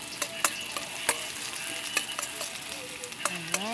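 Chicken sautés with ginger in a pan for Filipino tinola, a close steady sizzle punctuated by sharp utensil clinks and scrapes as it is stirred, with no talk.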